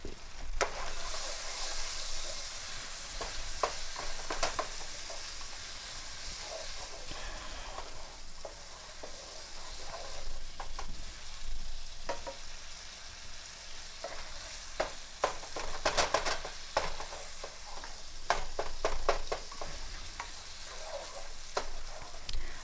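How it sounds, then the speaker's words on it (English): Sausage meat and vegetables sizzle steadily in a skillet while a utensil stirs them, with scraping and clicking strokes over a continuous close hiss and no voices. "I'm going to stir the meat and the vegetables real fast"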